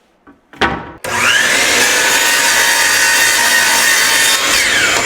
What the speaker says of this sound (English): rest your jigsaw up against your straight line